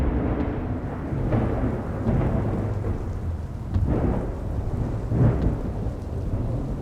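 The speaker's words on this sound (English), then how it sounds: "just as the storm hits land a little earlier than expected" Heavy rain pours steadily through a thunderstorm as rolling thunder rumbles repeatedly, close and loud, with no voices, for a dramatized storm scene.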